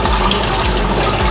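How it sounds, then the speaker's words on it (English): Tap water runs steadily and loudly into a sink while a baking-soda seasoned steak is rinsed in a strainer, a continuous close splashing stream with no talking. "we just simply rinse it off very, very well"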